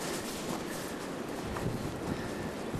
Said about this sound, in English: Blizzard. We've got blizzard conditions.